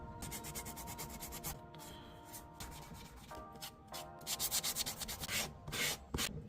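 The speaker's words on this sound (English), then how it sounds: "we are ready to do the final sanding" Rhythmic scratchy strokes of sandpaper rubbing across wood, close and steady, with short pauses between passes.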